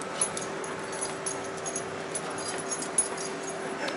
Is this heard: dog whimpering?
yes